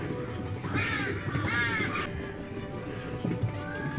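Gulls calling at a zoo: several loud, harsh, laughing cries in quick bursts, close by, over a busy outdoor background.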